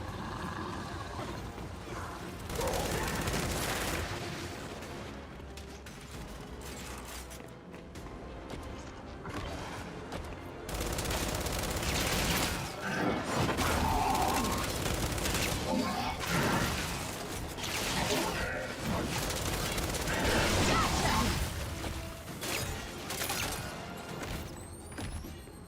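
Video game combat on Linux with a frag grenade thrown against enemies, dense continuous gunfire, crashes and thuds filling the whole stretch loudly, with a player's voice talking over it.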